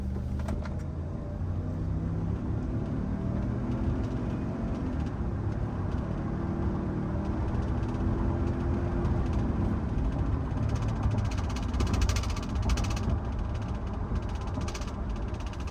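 A 2024 Ford Expedition Limited accelerating is heard from inside the cabin as a steady, rising engine and road rumble that builds gradually over about fifteen seconds, with no talking.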